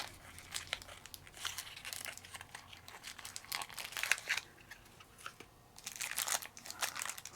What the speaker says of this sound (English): A nice little Ziploc bag so you can put them back in when you're done.